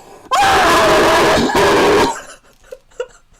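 A voice imitates a loud, piercing scream that lasts about two seconds, wavering in pitch, then breaks off into a few faint breaths and sounds.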